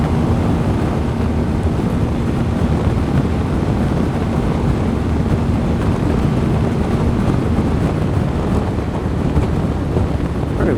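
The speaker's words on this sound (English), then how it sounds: "Very windy out here." Strong, steady wind roars across the microphone while riding a BMW motorcycle on a European tour, a loud continuous buffeting rumble with no talking.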